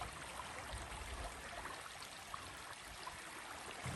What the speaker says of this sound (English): River crossing on a big bridge.